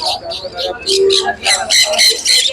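Several small exotic birds, including green rosy-type parrots, squawk and chirp in quick overlapping bursts at a bird market, loud and close, with bright sharp calls packed densely over a few seconds.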